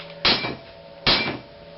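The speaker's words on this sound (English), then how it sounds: "give it a smack with a hammer" Two sharp metallic hammer blows on a Land Rover Series 3 rear leaf spring part during refurbishment, close and loud, spaced under a second apart, each ringing briefly before fading into a quiet workshop hum.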